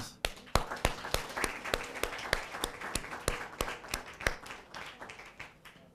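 Sparse applause breaks out on a Caribbean Christmas TV game show for a third-place winner, with crisp individual hand claps in a steady rhythm close by that taper off over several seconds.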